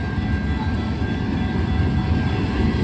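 A train rolls past at night, its steady broadband rumble and wheel noise filling the whole stretch loud and close, with no voices over it.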